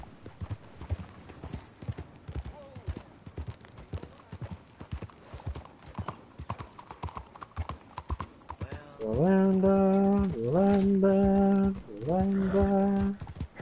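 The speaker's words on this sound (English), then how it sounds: "I literally have a horse. I have the Albanian horse now" Horse hooves clip-clop at a steady walking rhythm in Red Dead Redemption 2, fairly close and continuous. Toward the end a loud sustained tonal sound comes in over the hoofbeats.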